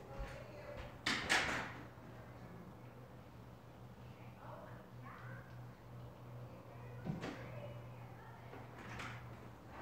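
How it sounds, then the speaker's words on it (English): A front door at home is opened, giving a brief knock-and-latch burst of handling noise early on, followed by a softer thud a few seconds later over a steady low room hum. "I got to open up the front door."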